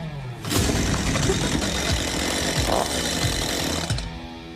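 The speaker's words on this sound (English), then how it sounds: "so I brought my chainsaw" A chainsaw roars loud and close in a radio studio during a political campaign segment, a rough buzzing engine held steadily for about four seconds before cutting off.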